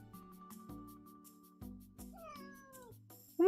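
A cat meows several times, with one rising, drawn-out meow near the end, over a low rumbling purr. The sounds are close and fairly quiet, ending in a sudden louder burst.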